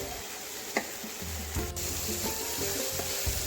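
Mixed vegetables and mushrooms sizzle steadily in a pan while being stirred, with scraping and knocks of the utensil against the pan layered over the close frying hiss.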